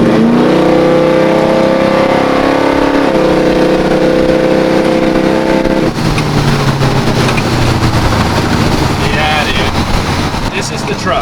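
A 1950 GMC pickup's engine revs hard and accelerates, a loud rising roar that shifts pitch partway through as the truck pulls away, with heavy wind buffeting on the microphone.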